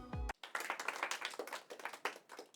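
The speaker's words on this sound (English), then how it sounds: "The crowd goes wild." Crowd applause and cheering sound effect, a dense burst of many hands clapping that starts abruptly after a brief low tone and continues steadily at close, loud level.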